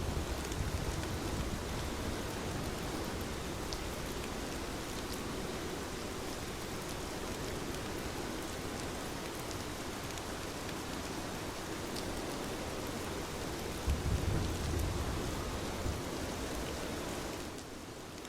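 Steady rainfall hissing evenly for the whole stretch, a dense broadband patter with a brief low thump near the end; no distinct thunder stands out.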